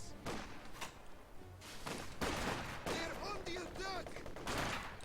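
Gunfire and an incendiary grenade in a strategy video game: scattered bursts of shots and thuds with crackling fire, fairly faint, mixed with a voice talking.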